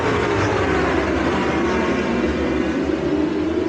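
BSB superbikes launching off the grid at Donington Park make a dense, loud, continuous engine roar heard from trackside, with no voices over it.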